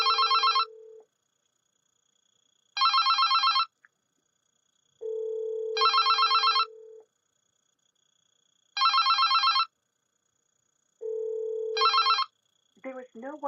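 Avaya IP Office analog office phone ringing: five regular bursts of a bright electronic ring repeat every three seconds or so. Between them, a steady lower ringback tone comes through the line, and a brief voice is heard at the end.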